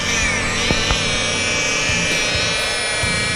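A rotary polisher runs continuously at close range, a loud steady whine with a droning motor hum and a couple of faint knocks.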